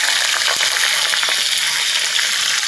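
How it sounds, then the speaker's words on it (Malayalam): Garlic and curry leaves sautéing in hot oil for a vegetarian curry leaf curry, a loud, dense, continuous crackling sizzle heard up close. "നന്നായിട്ടൊന്ന് വഴറ്റി കൊടുക്കാം."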